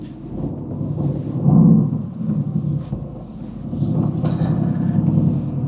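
Steady rain drumming on a car at night, a dense low rumbling wash with a couple of heavier swells, no talk over it.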